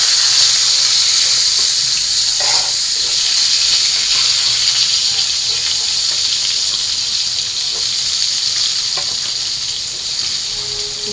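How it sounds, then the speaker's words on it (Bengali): Potatoes and beans fry in hot oil with a continuous loud sizzle and hiss, punctuated by faint clinks and stirring scrapes. "এবার হলো আলু আর সিমটা ভাইজা নিই।"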